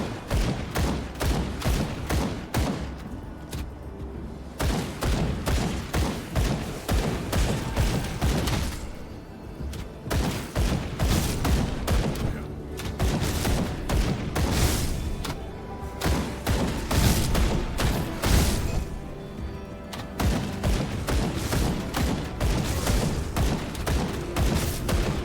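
Rapid bursts of gunfire from the action RPG Grim Dawn pound along in dense volleys, loud and nearly continuous, broken by a few brief pauses and mixed with heavy thuds and booms.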